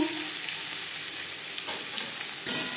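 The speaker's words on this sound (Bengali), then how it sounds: "পরিমাণ মতো রিফাইন্ড অয়েল গরম করে নেওয়ার পর দিয়ে দেবো পেঁয়াজ কুচি" Chopped onion frying in hot refined oil, a loud, steady hiss and crackle of sizzling, with a brief surge of spattering near the end and no voices.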